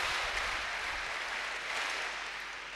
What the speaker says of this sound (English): A clap for her.